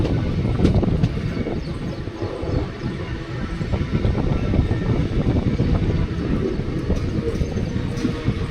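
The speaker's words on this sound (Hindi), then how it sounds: "तो ट्रेन जो है ना अभी स्किप करने वाली है विदिशा रेलवे स्टेशन को" Superfast train running through Vidisha railway station without stopping, a loud continuous rumble and rattle of wheels on track with wind rushing past the coach throughout.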